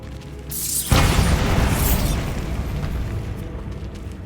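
The Bombarda explosion spell in Hogwarts Legacy goes off with a loud, sudden boom and crash that gives way to a long, rumbling decay, with no talking over it.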